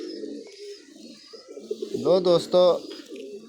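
Pet pigeons give a few soft, throaty coos, close by, rising over a quiet background while someone speaks briefly.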